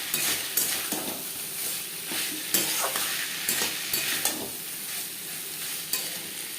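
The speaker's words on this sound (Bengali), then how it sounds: "মশলার সাথে আলু বেশ ভালো করে মিক্স করে দেবো" Potatoes stirred into spices in a frying pan for a Bengali silver carp curry, a steady sizzle with repeated scraping stir strokes and light utensil clicks throughout, close and alone with no talk.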